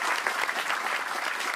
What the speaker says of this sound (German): Das ist erstmal euer Applaus.